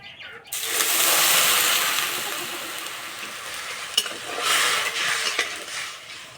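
Sugar and water stirred in a wok for syrup, a broad hissing swirl rising near the start then easing, with a metallic tap of the spatula against the pan, close by and no talk.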